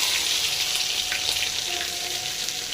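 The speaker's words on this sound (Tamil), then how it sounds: "எண்ணெய் காய்ச்சி கடுகு போட்டுடலாம். நல்லா பொரியட்டும்." Mustard seeds crackle and fry in hot oil for a South Indian kara sambar, a steady close hiss of sizzling with faint popping throughout and no voices.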